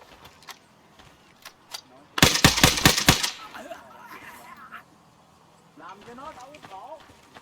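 Gunfire shooting through wooden walls in Arma 3 (SOG Prairie Fire), a sharp burst of about six rapid shots close by, followed by fainter clatter, with people talking around it.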